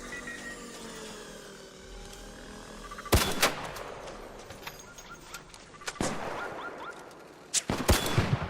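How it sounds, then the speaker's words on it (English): Gunfire aimed at players in ARC Raiders, with sharp loud cracks at three separate moments after a quieter stretch of ambience, each followed by short rattling echoes and scattered pops, fairly close. "Someone's trying to shoot us."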